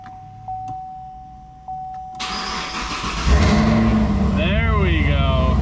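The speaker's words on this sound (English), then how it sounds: "The first start of the flooded ZL1 here on YouTube in 3, 2, 1." A flood-damaged Chevrolet Camaro ZL1 cranks and fires up after a warning chime, its engine catching with a loud rumble and settling into a steady idle close by, while a voice speaks over it.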